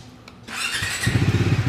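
A 2026 Bajaj Dominar 400 motorcycle engine cranks over, catches and settles into a rapid, throbbing idle, close by and fairly loud.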